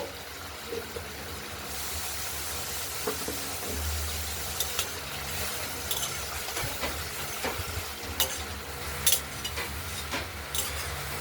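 Masala and potatoes cook in oil in a pan, a constant close hiss broken by occasional stirring scrapes and small clicks, with no speech.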